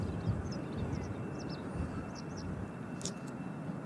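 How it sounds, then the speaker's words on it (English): A Boeing 757 climbing steeply after takeoff at windy Manchester Airport produces a distant, steady low jet roar blended with wind rumble, with faint bird chirps sprinkled above it. "a really steep climb from the 757"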